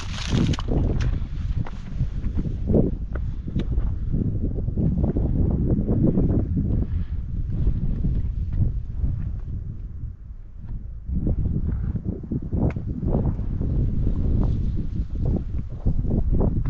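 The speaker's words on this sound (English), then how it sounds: "it's a little windy on top." Strong wind buffets the microphone on a hilltop overlook along a hiking trail, a loud continuous low roar with gusty swells and only brief lulls.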